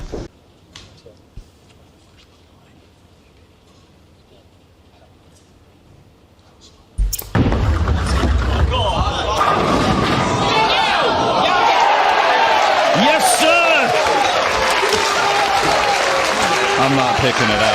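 At a Weber Cup tenpin bowling event, after a quiet stretch with a commentator talking, a bowling ball crashes into the pins with a sharp impact, followed by loud sustained crowd applause and cheering.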